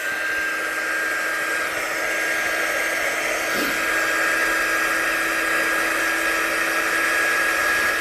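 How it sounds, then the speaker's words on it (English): Steady whine of a hair dryer blowing to dry watercolour paint on a card, a continuous even electric hum and airflow held for the whole span at close range. "So let's just dry the top part of that off."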